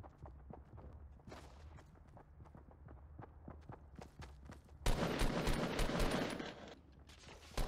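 Rapid gunfire from a Fortnite match, bursts of sharp shots and clattering footsteps, with a dense loud volley of automatic fire in the middle before dropping back to scattered shots.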